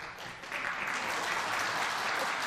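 A church congregation bursts into steady, full applause during a worship service that swells quickly and keeps going, dense and fairly close, with no one speaking over it.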